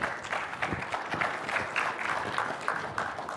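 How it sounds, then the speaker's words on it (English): A conference audience applauds as a speaker walks onto the stage at a sports analytics event, a steady wash of many hands clapping at moderate loudness for a few seconds without speech. "I don't know if I've ever had people clap when I come on the stage"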